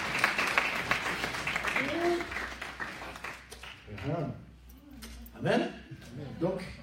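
Audience clapping for the actor who played Jesus at a French-speaking Christian gathering, scattered applause under a voice that continues speaking over it, fading into talk.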